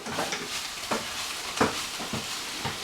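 Pork loin sautéing in a pan with garlic herb stir fry sauce, a steady sizzle broken by a few sharp scrapes and stirring knocks, close and fairly loud with no talking.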